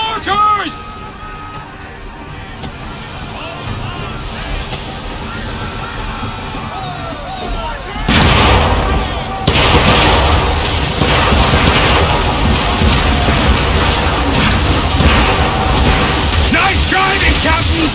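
Ship-mounted mortars open fire during a naval battle in Assassin's Creed III, a heavy booming barrage that swells from about eight seconds into sustained loud rumble, with shouting crew voices mixed in.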